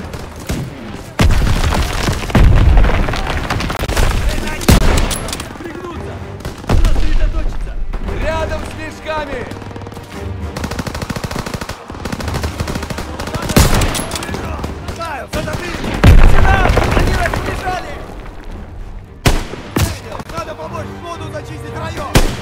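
Gunfire in the World War II shooter game Call of Duty WWII, loud bursts of rifle and machine-gun fire with heavy booms, rattling in clusters across the scene while voices shout over the battle.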